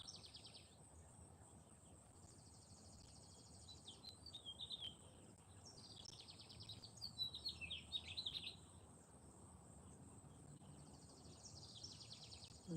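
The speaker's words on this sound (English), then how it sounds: "The birds are out. They're not quite as loud as they have been lately." Faint birdsong drifts in from outdoors at early morning, scattered chirps and short trills recurring over a low steady background hum with insect-like buzzing.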